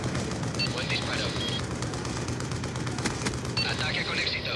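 Gunfire from the video game Call of Duty Black Ops II, a dense continuous clatter of shots and distant blasts over game background noise, with brief electronic tones.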